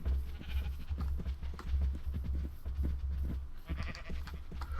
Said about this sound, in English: Ah, you can come along too, sheep, if you would like to.